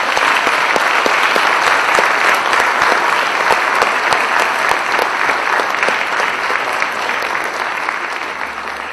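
An audience at a college Veterans Day ceremony gives a sustained round of applause for the veterans, dense, loud clapping from many hands that holds steady and then slowly tapers toward the end.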